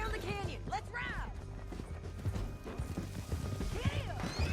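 A horse clip-clops in Red Dead Redemption 2, its hoofbeats rattling steadily beneath game voices, whooshing sweeps and clattering effects in a busy action scene.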